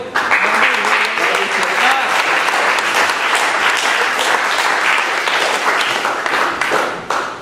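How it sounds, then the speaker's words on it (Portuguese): Church congregation clapping loudly together, a close, dense burst of applause with some voices mixed in, sustained throughout before fading at the very end. "Vamos aplaudir ao Senhor?"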